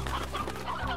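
Chickens cluck busily in the Slime Rancher video game, a dense, continuous farmyard chatter of short clucks, moderately loud with no voices over it.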